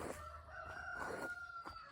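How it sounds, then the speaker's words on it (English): A rooster crows in a drawn-out call at moderate distance, with hens clucking around it as they dig in flower beds, and faint outdoor background. "Oh, those stupid chickens."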